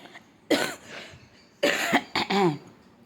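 A person coughs in three separate bursts at home, close and fairly loud, with brief quiet gaps between them and no talking.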